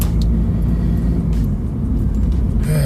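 Steady low engine and road rumble from inside a car being driven to a repair shop, continuous and fairly loud with no talk.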